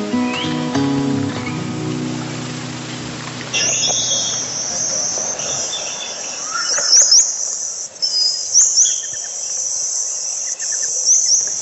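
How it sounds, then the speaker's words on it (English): Gouldian finch calls played back through a small MP3 player outdoors, thin high chirps and twittering repeating over a steady loud insect drone, with low tonal sounds fading out early. "lures them with mating calls on her MP3 player"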